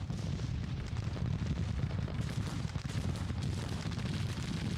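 Artillery volleys ripple through a Civil War battle in a strategy video game, a dense continuous roll of low booming fire that stays loud and steady throughout with no talk.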